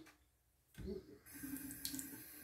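After a quiet start, water from a tap begins running into a bowl of MacDuff soap, a close, splashing stream that strengthens and keeps flowing steadily to the end.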